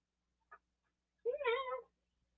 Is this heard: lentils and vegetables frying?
no